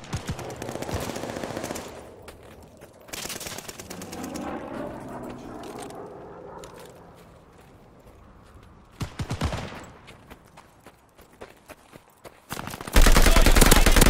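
Automatic weapons fire in repeated loud bursts during a Call of Duty: Vanguard multiplayer Hardpoint match, with quieter stretches of game ambience and distant mechanical noise between volleys and a heavy burst at the end.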